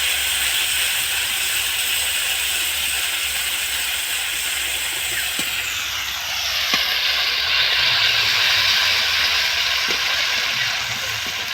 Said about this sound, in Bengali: এই বাটা লঙ্কা এই তেলের মধ্যে আমি দিয়ে দিলাম।